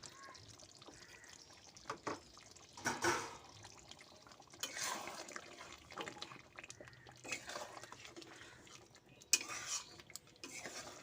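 Chicken curry with curry powder and garam masala is stirred in a pan: soft, intermittent scraping and clinks of a spoon against the pan, fairly quiet and irregular, with no talking.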